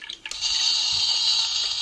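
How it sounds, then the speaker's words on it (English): Barbie Fantastic Food Truck toy playing its electronic running-water sound, a brief steady hiss after a couple of clicks, alone. "So it makes water sounds, Lily."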